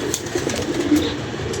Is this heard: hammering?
no